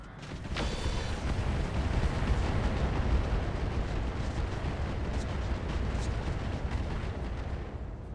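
Mech weapons unload heavy fire in a video game, a dense, continuous barrage of booming blasts that roars without pause from start to finish, loud and close.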